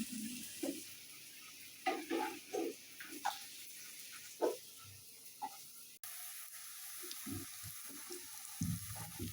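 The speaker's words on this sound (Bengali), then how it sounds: "এই জন্য জল ছিটিচ্ছে।" Water splashes from a tap in a home kitchen, a steady hiss broken by uneven spatters and soft clatters, close by with no talking.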